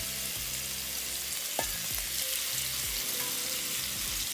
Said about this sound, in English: We are going to stir fry our Bittergourd on medium heat.